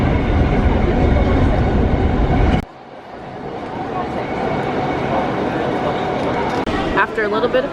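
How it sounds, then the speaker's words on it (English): A JR train rumbles loudly alongside steady station noise at a Tokyo-area station, then the roar drops away to a quieter hum with people's voices in the background. "And now we are waiting for the train."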